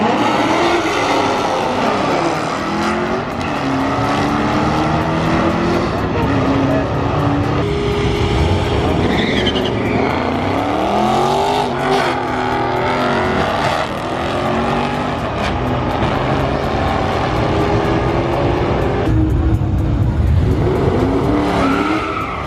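A Mustang 5.0 and a Hellcat race side by side at a drag strip, engines roaring loud and continuous with tire squeal and rising, falling revs throughout.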